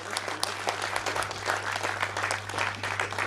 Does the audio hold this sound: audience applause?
yes